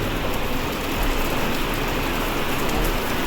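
Heavy monsoon rain pours steadily on a busy street, a dense, constant hiss of drops on the pavement with no voices.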